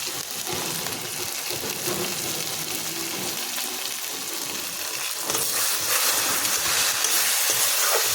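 Meat browning in a pan with salt for a Bengali-style mangsho curry, giving a continuous loud sizzle and crackle that grows brighter and more intense in the last few seconds, with no talk.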